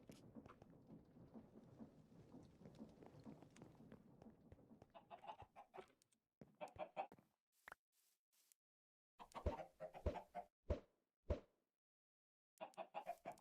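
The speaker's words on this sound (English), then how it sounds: "More chickens." Chickens in the video game Minecraft cluck in short, separate bursts, faint and scattered with gaps of silence, after a soft, continuous rumbling backdrop that fades out.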